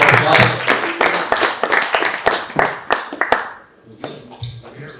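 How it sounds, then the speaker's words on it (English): An event audience breaks into applause for a speaker, a burst of clapping mixed with voices and cheers, then thinning to scattered sharp claps before fading out. "Gavin, give him a round of applause."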